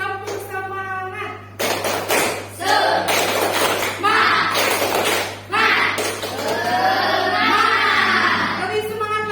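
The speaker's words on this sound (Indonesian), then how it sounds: "Tepuk semangat." A primary school class performs a rhythmic chant-and-clap cheer, with bursts of group clapping and thumps interleaved with children's chanting voices and a teacher's speech over a steady electrical hum.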